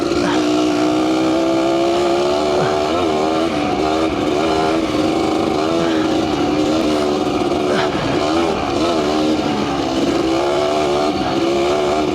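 A 1992 KDX200 two-stroke dirt bike ridden on a trail, its engine buzzing loud and close throughout with pitch rising and falling as the throttle changes, wind noise over the microphone.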